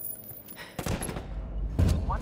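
Gunfire from a tactical shooter in Ghost War PvP, sharp bursts around the middle and near the end over a steady background of battle noise, with the shots fairly close and loud.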